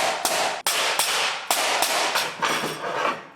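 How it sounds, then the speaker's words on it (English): A hammer raps a 1-inch steel bar resting on a steel plate to straighten a bend, giving about eight sharp metallic blows at an uneven, fairly quick pace, close and loud with short ringing decay. "I have a piece of 1-inch bar. Give it a little tap."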